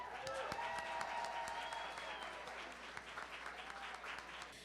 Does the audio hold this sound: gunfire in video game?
no